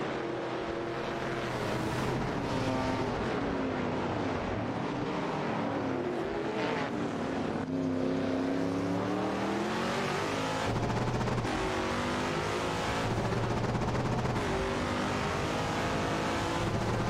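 Race cars in a GT racing video game, including a Cheetah GTA and a BMW CSL 3.5, roar continuously with engines revving up and down as several cars battle closely, loud and steady with no voices.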